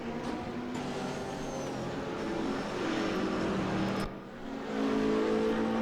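Race cars including a BMW lapping Sachsenring in GTR3 racing game endurance event: continuous engine drone with rising and falling revs, a brief dip then a louder car sweeping past, no talk.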